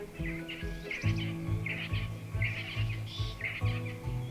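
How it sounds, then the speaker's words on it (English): Noisy birds such as Egyptian geese, helmeted guineafowl and grey go-away birds calling around a South African waterhole at sunrise: repeated bursts of chirps and calls over a low steady hum, fairly faint. "generally dominated by noisy birds like Egyptian geese, helmeted guinea fowl, grey go-away birds"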